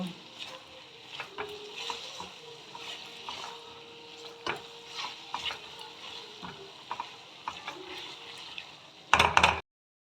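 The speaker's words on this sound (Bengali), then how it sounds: "পরিমাণ বুঝে হলুদ দিয়ে দিলাম ভালো করে একটু কষিয়ে নেব" Raw pumpkin and potato being sautéed with salt and turmeric in a pan, soft sizzling under intermittent scraping and stirring strokes, ending in a short loud clatter.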